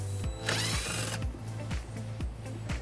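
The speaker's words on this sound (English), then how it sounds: "we can remove this bolt right here that's holding our bumper in. We'll need to use an 8mm socket to remove it." A power tool with an 8mm socket spins out a bumper bolt on a 2021 BMW X3, whirring in short, repeated bursts, close and steady, with one brighter high-pitched whine early on.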